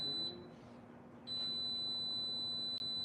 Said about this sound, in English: That's our timer going off.